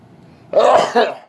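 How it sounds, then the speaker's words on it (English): A single loud, explosive burst from a nearby person, a sharp sneeze-like expulsion with a short second push after a quiet start. "got to sneeze sometime."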